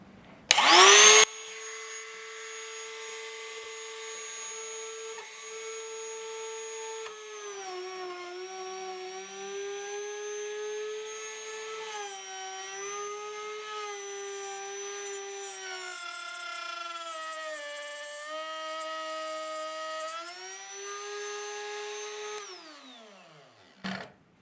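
A handheld router cuts keyhole slots into wood guided by a jig, held by hand without clamps: a loud, sustained high motor whine that dips and shifts in pitch as the bit loads, with a brief burst at start-up and a winding-down at the end.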